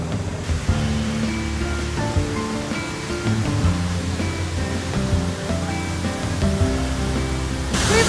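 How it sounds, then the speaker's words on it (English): La Fortuna Waterfall in Costa Rica roars as a steady, loud wash of falling water, with a faint tonal layer running through it and no voices. "We've reached the waterfall!"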